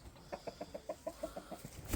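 A steady run of soft chicken clucks, about ten evenly spaced notes in two seconds, fairly quiet and close with no talking.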